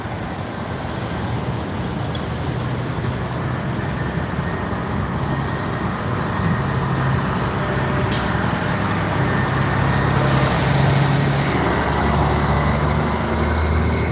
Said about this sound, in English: That's a big truck.